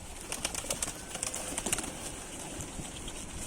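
Repeated high seagull calls in quick bursts, mostly in the first two seconds, over steady outdoor background noise.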